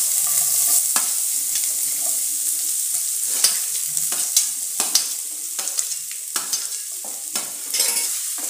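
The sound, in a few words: finely chopped onion frying in a pan for poha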